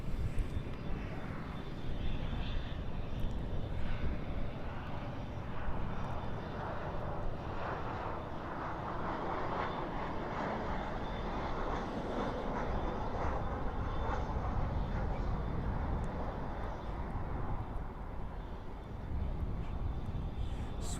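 A jet airliner rolls out after landing at Dallas/Fort Worth airport at night, spoilers up and thrust reversers roaring, a steady loud broadband rumble heard from an observation deck, with faint talk in the background.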